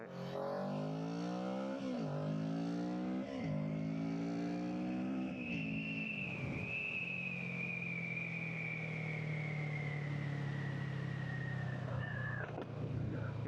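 Kawasaki Z650 motorcycle engine revving up through rising pitch in a few stepped pulls, then holding a high sustained whine as it accelerates before easing off, near and steady.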